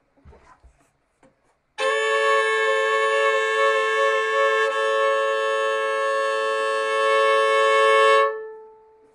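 A sustained major third interval tuned pure and beatless, a steady, clean, resonant tone held for about six seconds with no wavering, then fading out, preceded by a few faint soft knocks.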